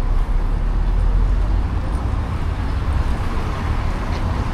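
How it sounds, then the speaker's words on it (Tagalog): Rush-hour street traffic rumbles around a pedestrian in Paris, a dense continuous drone of engines and road noise with deep low hum, fairly loud and unbroken. "Traffic kasi eh."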